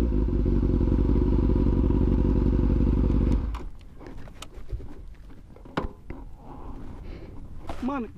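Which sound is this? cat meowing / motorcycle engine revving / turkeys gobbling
motorcycle engine revving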